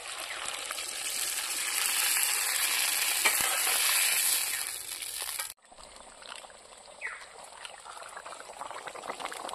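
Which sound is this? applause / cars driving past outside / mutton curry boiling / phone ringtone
mutton curry boiling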